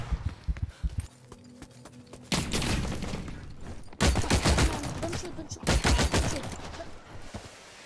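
Gunfire in the video game The Cycle: Frontier arrives as several dense rapid-fire bursts, loud and close, mixed with scattered shots and scuffling noise and some faint voice underneath.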